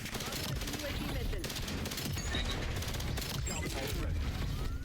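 Gunfire in the Black Ops 7 video game, with rapid bursts and scattered shots crackling over a dense, steady wash of battle noise, moderately loud and continuous throughout.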